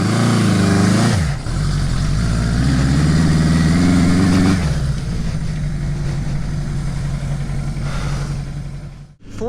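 A GS850 scrambler or DR650 dual-sport motorcycle engine runs close by, with a loud low idle that swells in a brief rev, then settles back to a steady rumble before cutting off abruptly at the end.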